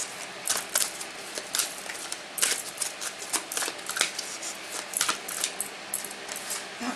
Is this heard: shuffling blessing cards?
yes